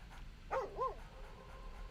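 In Baldur's Gate 3, the dog Scratch lets out two short, close yips or barks in quick succession over a quiet room tone, with no talking.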